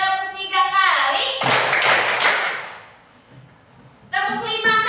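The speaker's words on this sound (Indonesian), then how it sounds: "Tepuk 3 kali." Hands clapping in a children's counting exercise, a short burst of sharp claps between stretches of a voice giving instructions, close and clear.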